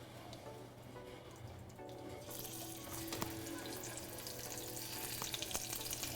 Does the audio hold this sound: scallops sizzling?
yes